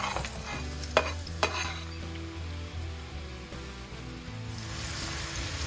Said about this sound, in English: we can go ahead and saute these in some olive oil